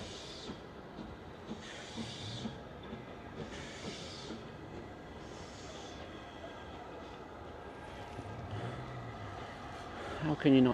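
Steam train at Whitby coupling up, heard from nearby as a steady low rumble and hiss with intermittent bursts of steam, a sharper clank near the end, and people talking nearby.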